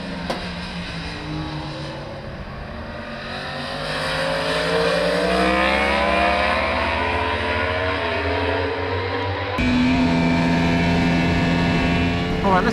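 A 2020 Yamaha R1 sport bike on the Jerez racetrack in southern Spain, its engine howling close and loud as it climbs and drops through gear changes, with a sharp shift near the end.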